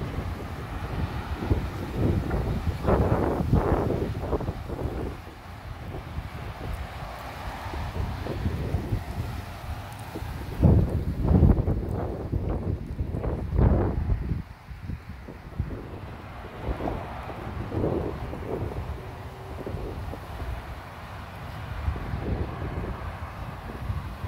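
Strong, gusty wind buffets a microphone outdoors during a storm in Santee, a steady low roar with louder surges throughout and no speech.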